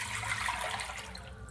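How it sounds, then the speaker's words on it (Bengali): Water is poured into a pan for boiling rice, making a short, steady gush of running liquid at moderate volume, heard alone. "ভাত ফোটার জন্য জলটা দিয়ে দিব।"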